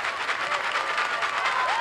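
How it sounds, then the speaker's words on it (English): Rockwall Yellowjackets home crowd at a region final high school baseball game against The Woodlands Highlanders, applauding and cheering in a steady, dense wash of claps with scattered whistles, continuous throughout. "The Rockwall crowd definitely in it"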